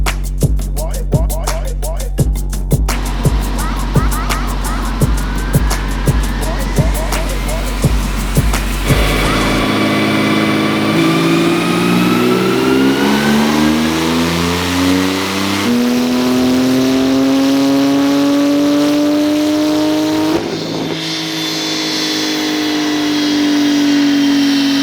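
A tuned Porsche 991.2 Turbo engine idles with a rapid rhythmic thumping, then revs up loudly in several long climbing pulls that rise, hold and fall back, close to the car and with no talking.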